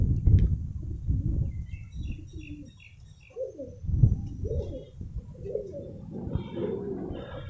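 Pigeons coo repeatedly in low, throaty rolling calls, close by, with faint chirps and a rustling background.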